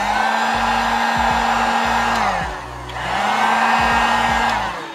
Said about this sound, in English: then we use the heat gun again